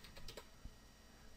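Typing on a computer keyboard while writing Arduino Processing code: a few faint, quick key clicks early on and one soft thump, then quiet background hiss.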